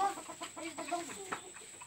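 A chicken clucks close by in a run of short, soft clucks over a faint steady background hum.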